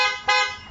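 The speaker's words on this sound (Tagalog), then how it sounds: "Reversible passing horn with passing" A reversible passing horn on a Barako 175 motorcycle with a modified fullwave electrical setup gives one short, bright, steady honk that swells slightly partway through.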